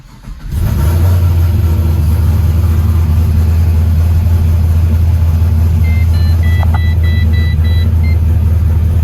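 A 2004 Pontiac GTO engine cranks and fires, then settles into a loud, steady low idle, with a few faint electronic beeps partway through.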